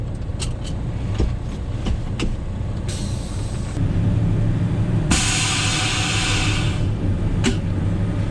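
A gravel truck drives along and shifts gears, its engine droning steadily under several sharp air hisses and clicks, with a louder bright hiss partway through.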